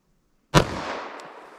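.45 ACP pistol shot fired with a Sinterfire Special Duty round into long slides, a single sharp loud report with a lingering echoing decay, then a faint click.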